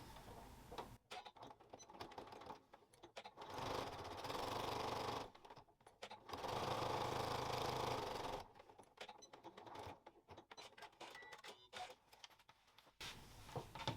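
Sewing machine running top stitching in bursts, with two long sustained runs of fast, steady needle chatter separated by quieter pauses with small handling sounds; close and moderately loud, no talking.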